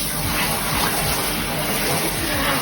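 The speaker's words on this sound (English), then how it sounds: "you just go ahead and start washing it away inside your bathtub" Loud, steady rush of water in a bathtub as a bleached tie-dye dress is rinsed under it, a constant close splashing wash with no pauses.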